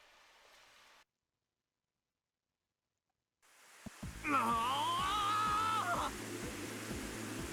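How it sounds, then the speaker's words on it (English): Heavy rain falling outside in the visual novel game Robotics;Notes Elite, a broadband hiss that cuts out to silence and then returns strongly, with a rising and falling tonal sound and rhythmic low thumps layered over it. "My monologuing is erased by the sounds of the fierce rain outside."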